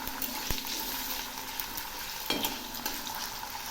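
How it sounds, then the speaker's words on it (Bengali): Diced potatoes fry in hot oil with cumin seeds and a bay leaf as a spoon stirs them, giving a steady soft sizzle broken by a few sharp scrapes and knocks against the pan, close and with no voices. "একটু নেড়ে দিচ্ছি।"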